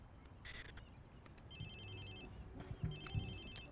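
A phone ringtone chirps in Watch Dogs 2, short electronic trills repeating over a quiet game backdrop, fairly soft and clear with no talking.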